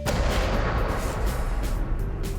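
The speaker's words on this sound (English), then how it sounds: "We needed some... Explosions." Special-effects explosions set off for a prank at a wedding boom loudly and close by, a dense run of blasts and rumbling that fills the whole moment.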